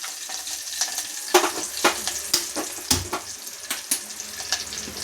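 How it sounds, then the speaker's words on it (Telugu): Curry leaves sizzle and crackle in hot tempering oil for an ivy gourd and tomato curry, a steady close hiss broken by sharp pops and stirring clinks. "పోపులోకి కొంచెం కరివేపాకు కూడా వేసుకోవాలి."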